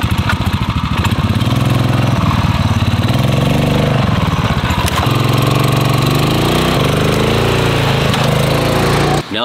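A ROKON Trail-Breaker 2WD motorbike rides up and over a log, its engine droning loudly and steadily close by and shifting pitch as it revs through the climb, with no talk.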